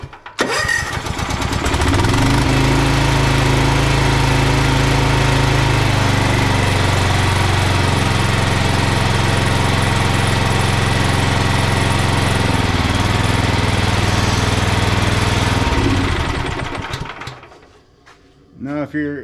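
Toro TimeCutter zero-turn mower engine cranks and catches, then runs loud and steady close by for about fifteen seconds before shutting down and sputtering to a stop.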